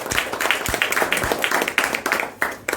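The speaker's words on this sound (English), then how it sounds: "A round of applause for Shashi." Small audience at a Toastmasters club meeting claps briefly, a light scattered round of hand claps with distinct individual slaps, close and fairly quiet.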